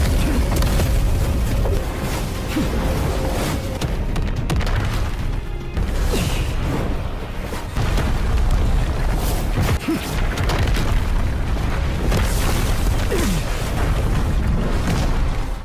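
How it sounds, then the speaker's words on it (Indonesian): Loud, continuous booming blasts and crashing impacts, dense and rumbling, like a heavy explosion in a fight scene with debris clattering. "setelah ledakan yang dahsyat tersebut"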